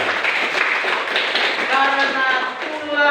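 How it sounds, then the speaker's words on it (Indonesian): A classroom group claps in a steady, dense patter, close and fairly loud, with voices mixed in. "Tepuk tangan."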